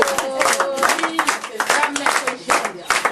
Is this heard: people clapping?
yes